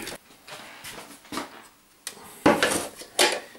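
Gooseberries and cherries tipped into a metal jam pan, a string of close, irregular knocks, clinks and soft tumbling thuds as the fruit drops in and a utensil scrapes against the pan.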